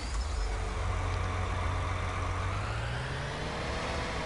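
A tractor engine in Farming Simulator 19, running steadily and loud at close range with a low droning hum that rises slightly in pitch near the end, with no talk over it.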